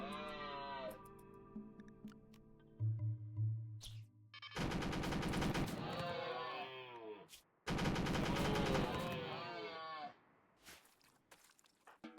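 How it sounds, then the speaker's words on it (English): A machine gun rattles in the video game RimWorld, firing two long, sustained bursts of rapid gunfire that dominate the middle of the clip, with quieter game sounds before and after. "Probably a little bit too much rattling from the machine gun over there."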